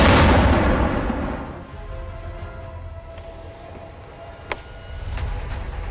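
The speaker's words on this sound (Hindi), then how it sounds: "ईरान ने मिसाइल दागी है, जो खैबर मिसाइल दागी है उसकी तस्वीर आपको दिखा रहे हैं" An Iranian Khaibar missile launch toward Israel, a loud roaring blast that starts at full strength and fades into a long rumbling tail, with one sharp crack near the end.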